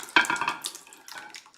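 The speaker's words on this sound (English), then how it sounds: "Just pour our beans right in here." Canned beans pour into a baking pan up close, making a few wet, sloppy glugs and splats that come in uneven bursts and then trail off.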